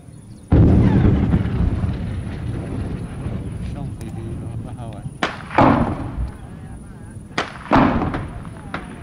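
Artillery strike during heavy combat clashes in Yemen: a loud booming blast erupts and rolls on, followed by several further sharp detonations and thuds, with voices talking amid the fire.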